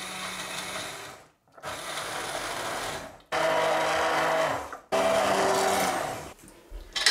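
An electric blender purées onion smooth for a sauce, whirring loudly in several long bursts separated by short pauses, with the motor pitch shifting between runs.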